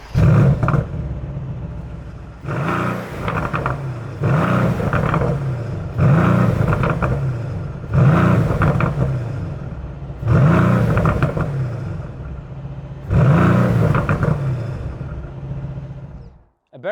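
A 2022 Mercedes-AMG C63 with a 4-litre V8 and particulate filters revs hard in about seven repeated bursts, each swelling to a loud roar and falling back between blips, close and aggressive.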